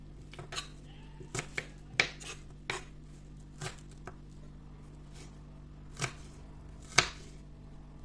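Red onion being chopped on a board, a dozen or so separate knife strikes spaced irregularly, close and fairly crisp over a steady low background hum.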